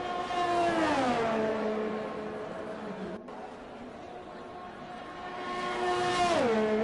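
Ferrari Formula 1 car from the F1 2020 racing game at Brazil, its high-pitched engine wailing loudly and steadily, dropping in pitch through downshifts near the start and again at the end, with a brief dip in the middle.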